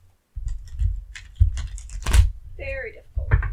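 Tarot oracle cards are shuffled in stiff, uneven bursts of papery rustling and soft slapping, close up, with a short stretch of voice partway through.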